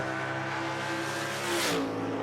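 Hemi-powered super stock drag race car at the line, a loud sustained engine roar with harmonic drone that surges into a brighter, harsher burst near the end as it launches, with no talk.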